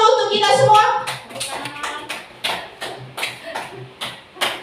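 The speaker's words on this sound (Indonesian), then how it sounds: "Tepuk tangan dulu untuk kita semua." A small group clapping in a positive-discipline training session, starting over a voice and then settling into sparse, separate claps at an uneven, slowing rhythm, fairly close.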